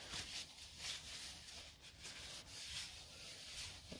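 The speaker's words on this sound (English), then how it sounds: "You can rub the excess off with a towel." A towel rubbing excess lemon oil off a turned wooden bowl, a steady close, soft scrubbing hiss in continuous back-and-forth strokes with no talking.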